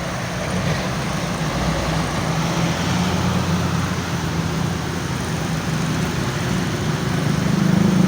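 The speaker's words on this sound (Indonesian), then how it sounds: "Pantau lagi ada truk kanter lagi yang lewat" A Canter truck rolls along a hilly highway between Payakumbuh and Bukittinggi, its engine a steady, loud drone that holds close throughout with a rising low rumble near the end.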